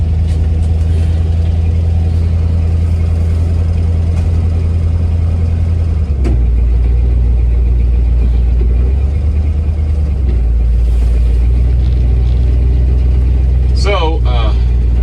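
A steady low engine rumble from a 1973 Ford F-100 pickup truck idles throughout, loud and close, shifting in pitch partway through as if revved slightly, with a brief squeak near the end.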